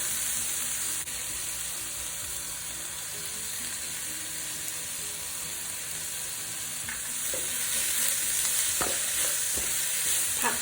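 Streaky pork with dried chili and salt stir-frying in a pan, a continuous loud hiss and sizzle throughout, with a few spatula scrapes and knocks growing busier near the end, close by and free of speech.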